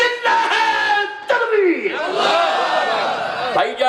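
A mosque congregation at a Bangla religious sermon loudly shouts the takbir "Allahu Akbar" in unison in response, two rising crowd chants in quick succession, close and full.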